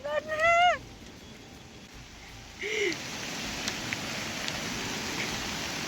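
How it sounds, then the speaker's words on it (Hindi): Steady hiss of heavy rain falling outdoors in a grassy hillside spot, continuous and fairly loud, with a couple of short bird or voice chirps near the start. "तो फ्रेंड्स बारिश आप देख ही सकते हैं कितनी खतरनाक लग रही है"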